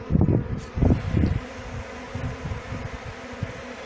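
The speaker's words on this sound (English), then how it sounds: "As soon as there were bees in there, they started fanning" A low, steady buzzing hum of many bees nearby, with a few louder pulses at the start before settling into a softer drone.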